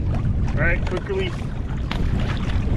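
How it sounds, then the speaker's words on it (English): Wind gusting over open water around a small fishing boat, a steady rushing buffet on the microphone with faint brief calls or squeaks mixed in. "Getting a little bit breezy out here."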